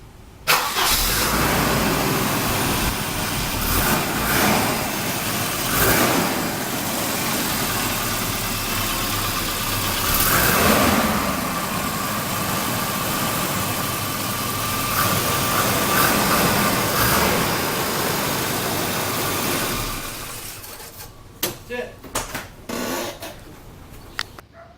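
A 1985 Volvo 245 with its B230 engine runs steadily with spark plugs loosened to burn off carbon, a loud continuous close-up drone for about twenty seconds, then it shuts off, leaving scattered knocks and clicks.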